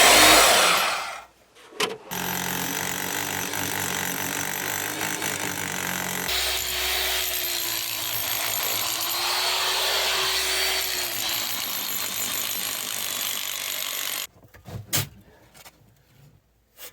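Power tool running steadily while digging tunnels in sandstone bedrock underground, a loud continuous whirring grind lasting about twelve seconds with a shift in pitch partway, bracketed by brief knocks and scraping.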